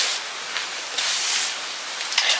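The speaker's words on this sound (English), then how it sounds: "Oh, that's heat protecting when I spray it." Short bursts of aerosol heat protectant hair spray hissing close by, three or four sprays separated by brief pauses.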